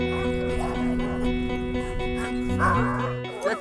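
Sled dogs in a large kennel of working huskies bark and yip excitedly, with overlapping barks and whimpers close by and some far off, while people talk among them.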